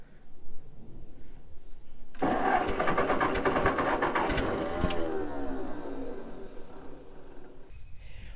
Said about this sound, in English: the tractor is not starting right now